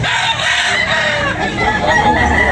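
Gamecock roosters crow loudly and continuously at a Sunday morning gamecock sale expo in Tabunok, Talisay, several birds overlapping with clucking amid a busy, noisy crowd.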